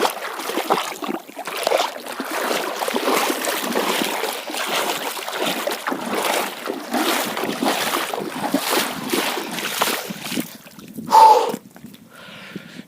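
Splashing and sloshing of someone wading through knee-deep water, steady and close for most of the stretch, with a louder surge near the end followed by quieter moments.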